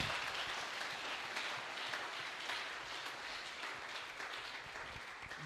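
A church congregation claps continuously, a broad steady wash of applause holding at even loudness, gradually easing slightly toward the end.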